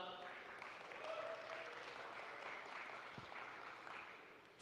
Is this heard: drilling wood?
no